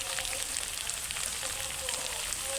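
Cut potatoes fry in oil in a pan with bay leaves while being stirred for a Rui fish curry, a steady, close, bright sizzle running throughout with faint stirring scrapes.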